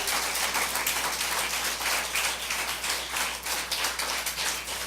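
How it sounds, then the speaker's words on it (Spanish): Church congregation clapping together in fast, steady rhythmic unison, a dense continuous patter of many hands that stays loud throughout. "Aplaude al Señor, aleluya."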